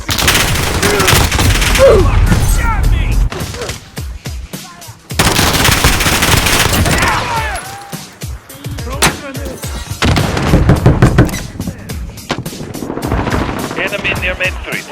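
Akimbo pistols fire in a video game in loud, rapid volleys, mixed with dense battle noise and a helicopter-like drone. Game voice callouts and chatter run underneath the shooting.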